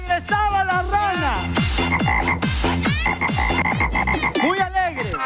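A loud, close run of frog croaks, a dozen or so rapid throaty calls in a steady rhythm, filling the whole stretch with no talking.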